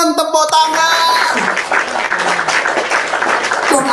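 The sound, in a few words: audience applause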